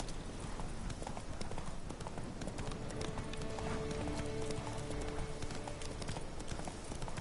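Horse hooves galloping in the video game The Witcher 3: a fast, steady clip-clop of hoofbeats over a continuous noisy bed, loud and close, with faint game sounds and tones mixed in and no talking.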